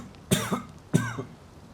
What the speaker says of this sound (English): I had to cough really badly now.